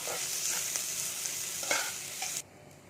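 Onion and grated ginger fry together in a pan, a steady broadband sizzle with a few scraping stir strokes, close and fairly loud, cutting off abruptly near the end.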